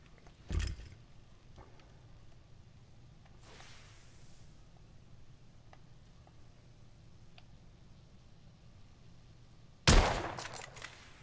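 Two sharp, loud rifle cracks from a scoped long-range rifle in a video game, one early and one near the end, each with a brief ringing tail, and a quiet ambient stretch in between.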